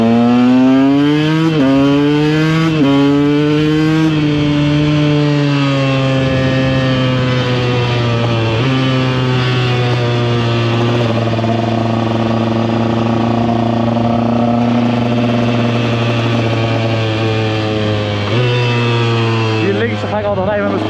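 A KTM EXC 125 dirt bike cruises along a road, its engine loud and close throughout, rising and falling in pitch through gear changes and throttle shifts.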